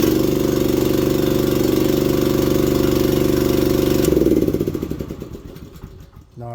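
A cold manlift engine runs steadily at a loud, even idle with a throbbing low rumble, then slows and sputters as it winds down toward the end.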